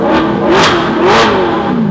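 An Alfa Romeo's Maserati-derived 4.7-litre V8, rated at 450 horsepower, revs loudly and close by, with two sharp rising blips that fall back between them and carry a rasping, singing tone.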